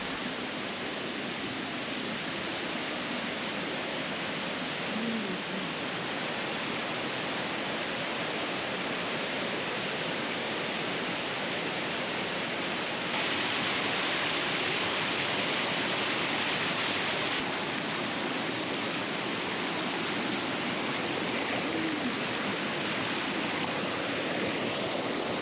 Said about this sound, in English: Our first waterfall is Shokaidare. It's a 10-meter fall